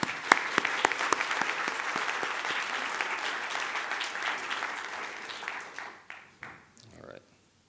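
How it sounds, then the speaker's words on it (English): An audience at an obstetrics and gynecology conference bursts into applause, with sharp individual claps early on and a full crowd wash that tapers and dies away near the end as a speaker begins talking. "If we could give them a round of applause."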